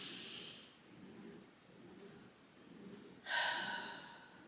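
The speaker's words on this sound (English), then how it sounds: "Let's breathe together for a second." Slow deep breaths repeat in a gentle rhythm, several soft inhales and exhales close to the microphone, ending with a louder, airier breath; no words are spoken.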